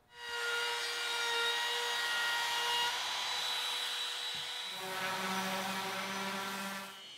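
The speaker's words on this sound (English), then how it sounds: "I'll use the router to put a slight round over on the outside edge of the molding" A router rounding over the outside edge of wooden molding for a cabinet, a steady high whine that drops in pitch partway through as it bites into the wood, close and alone.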